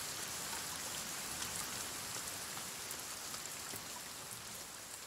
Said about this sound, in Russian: Здесь вообще дождь.